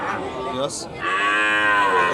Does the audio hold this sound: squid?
no